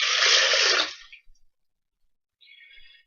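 Water poured into a blender holding peas for a DNA extraction science experiment, a brief rushing splash that stops after about a second, then a faint trickle near the end.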